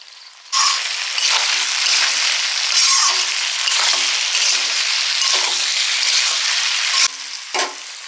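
Cauliflower sautéing with mixed spices and salt in a hot pan, a loud continuous sizzle that starts abruptly, with stirring scrapes throughout and a brief dip near the end.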